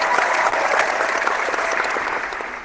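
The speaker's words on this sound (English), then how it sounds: "keep that applause going" A fight crowd rises in a standing ovation, sustained dense applause roaring steadily and loud throughout, with no talking over it.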